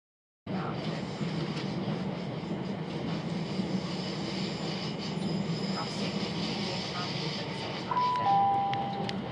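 A Southern train heading to London Bridge runs with a steady, dense rumble of wheels and carriage noise from start to end, heard from inside with a brief high chime near the end.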